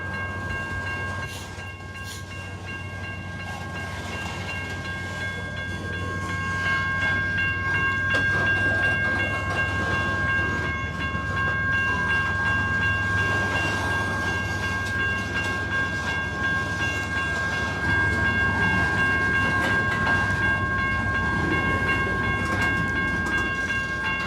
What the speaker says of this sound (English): This is probably about a 75 or 100 car train, so it'll take him a while to get out.